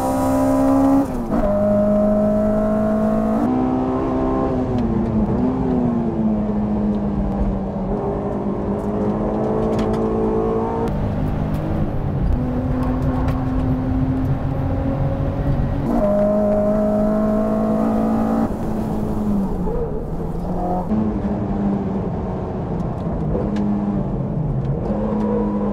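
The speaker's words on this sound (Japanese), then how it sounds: "かっこいいドリフト。" A Toyota AE86 and a Honda S2000 drift on a race track, engines droning loudly and close as revs climb and drop repeatedly over the whole stretch, with no voices.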